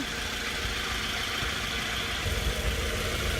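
A 2005 Scion tC engine idles steadily after an alternator replacement, a close, even rumble with no talk.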